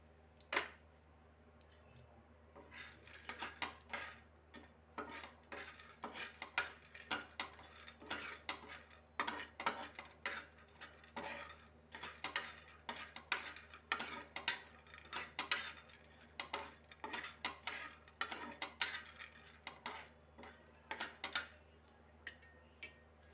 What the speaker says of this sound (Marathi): हे भाजलेले शेंगदाणे परत थोडं एकदा फ्राय करून घ्यायचे